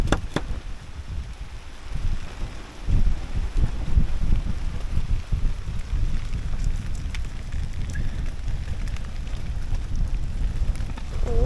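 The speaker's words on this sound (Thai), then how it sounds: "ท่ามกลางลมที่แรงมากนะครับ" Strong wind roars steadily around a treehouse during a rainstorm, with rain noise mixed into the continuous buffeting gusts.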